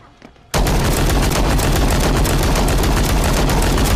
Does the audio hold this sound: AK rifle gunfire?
yes